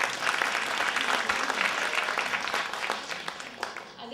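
An audience at a carnival show applauds a singer, with thick continuous clapping from a sizeable crowd that stays strong for several seconds, then thins and tails off near the end.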